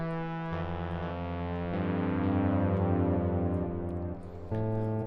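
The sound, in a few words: synthesizer tone with phase distortion added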